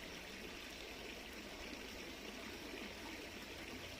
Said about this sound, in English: The water, you see the water, the stream, it goes